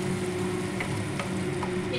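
Spice paste for a Bengali banana flower kofta curry hits hot oil with cumin, giving a loud, dense, continuous sizzle close up, with a few faint stirring scrapes.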